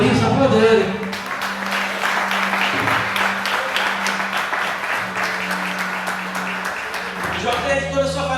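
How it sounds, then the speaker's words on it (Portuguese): Church congregation at a youth service applauding, steady crowd clapping over a held low tone, with voices audible before and after. "Você pode aplaudir o Senhor por isso? Aplauda Ele."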